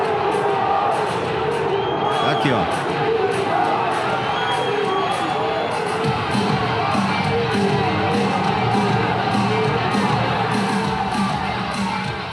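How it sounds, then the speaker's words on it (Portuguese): Botafogo football fans in the stadium shout and jeer at coach Davide Ancelotti, a loud, dense crowd roar of overlapping angry voices that stays constant, with a brief nearby spoken remark. "Xingado o David Ancelotti"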